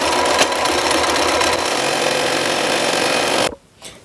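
A sewing machine stitches cosplay fabric with a fast, loud, continuous whir that cuts off abruptly near the end, followed by a moment of quiet.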